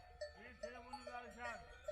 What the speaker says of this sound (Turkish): şu an kamp alanımızı kuzular, keçiler bastı